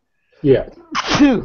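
A single sharp sneeze bursts out during a casual conversation, followed closely by a relieved exhale and brief speech from the same person.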